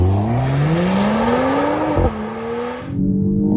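A Mercedes-AMG GLE 53 4MATIC+ Coupe launches hard, its engine revving up loud and close through a rising pitch, with a quick gear change, then climbing again before the sound cuts off.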